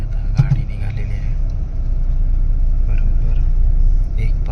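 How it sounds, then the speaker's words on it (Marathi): A Sanvi Travels passenger bus sets off on an overnight monsoon run to Konkan, its engine a steady low rumble that swells slightly as it pulls away, with a few faint background voices. "मंडळी आता गाडी निघालेली आहे."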